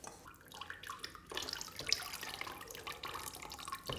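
Liquid glaze is poured out of a pottery piece, probably a transparent glaze, giving a steady close splashing and trickling with dripping throughout.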